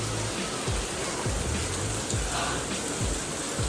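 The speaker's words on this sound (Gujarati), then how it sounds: "જોરદાર વરસાદ ચાલે છે જન્માષ્ટમીમાં તો ભાઈ સાહેબ" Heavy monsoon rain pours during Janmashtami on a trip from Ahmedabad toward Dakor, a dense, steady hiss of falling water with no break and no voices.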